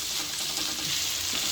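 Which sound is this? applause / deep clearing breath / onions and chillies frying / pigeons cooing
onions and chillies frying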